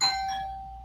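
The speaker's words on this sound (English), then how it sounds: "the doorbell rang" A doorbell chimes once at home, a single clear ding that rings out and slowly fades, with no other sound around it.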